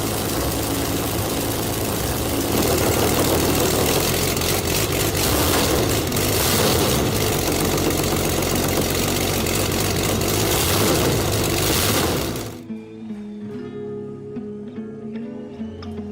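A Leclerc 9B nine-cylinder rotary aircraft engine from the World War era runs loud and close with a steady, rough roar for about twelve seconds, then cuts out abruptly, leaving faint low rumbling and clanks.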